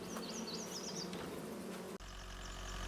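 Bees buzzing steadily in Farming Simulator 22, a close, continuous drone with wavering pitch that shifts abruptly near the end into a different constant game ambience.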